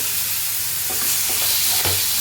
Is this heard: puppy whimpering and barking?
no